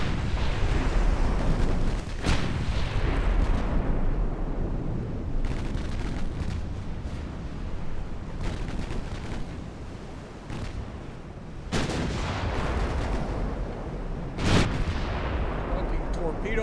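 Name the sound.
warship gun salvo in video game Ultimate Admiral Dreadnoughts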